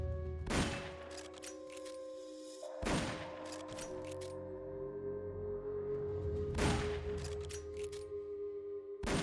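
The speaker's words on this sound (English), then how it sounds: "I heard gunfire." Gunfire in the video game Metal Gear Solid: Peace Walker: a few sharp, separated shots spaced seconds apart, ringing over a low droning game soundtrack, fairly faint overall.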